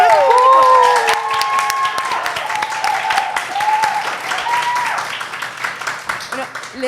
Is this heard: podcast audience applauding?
yes